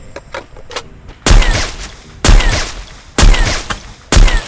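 Four heavy, booming rifle shots from an AWM sniper rifle fired without a scope in a video game, each a sharp loud crack with a rumbling tail, spaced about a second apart.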